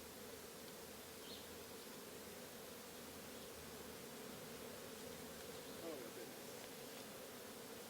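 A dense, steady buzzing of many honeybees at a hive during a spring inspection in Baltimore hums continuously at close range, with no pauses and no clear talking.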